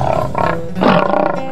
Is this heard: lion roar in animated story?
yes